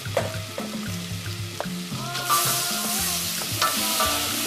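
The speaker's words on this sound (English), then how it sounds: "Then I fry my onion" Onion frying in butter in a pan for savoury rice, a steady close sizzle with repeated scraping stirs running through the whole stretch, no voices.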